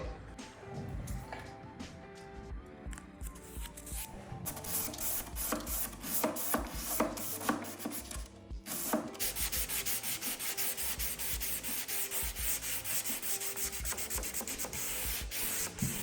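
Steady hand sanding on a wooden end table with a dark seal coat, the scratchy rubbing strokes continuous and close for the whole stretch, with no talking.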